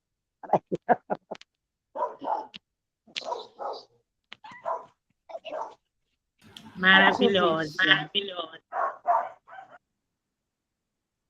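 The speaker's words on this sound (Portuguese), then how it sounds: "Essas minhas cachorras." Several short barks ring out in bursts close by, followed by a longer stretch of talking and a few more barks.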